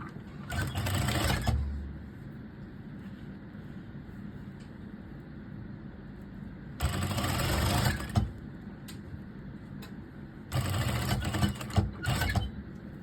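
A sewing machine stitches the hem of a strapless dress in three short bursts of rapid whirring, separated by quiet pauses, close and fairly soft.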